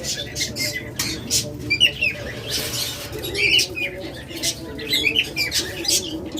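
Pet lovebirds, cockatiels and budgies, kept as breeding pairs for sale, give repeated squawks and chirps close by, with rustling and wing flutters in a busy aviary, while someone talks over them.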